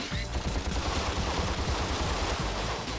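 Blaster weapon in Ratchet and Clank firing a dense, continuous stream of ricocheting bolts, loud rapid-fire bursts with booming low thuds packed together across the whole stretch, no talking.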